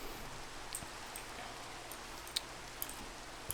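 Rain falls steadily in the Minecraft world as a soft continuous hiss, broken by a few sharp little drip-like ticks scattered near the end.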